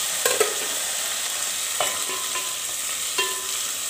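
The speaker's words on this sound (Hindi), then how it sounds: "इनको अच्छे से हम लोगों ने भून लेना है" Garlic ginger paste with onions and tomatoes frying in a pan for chicken nihari, a steady soft sizzle with a few sharp stirring clinks and scrapes of a spoon, close and without talk.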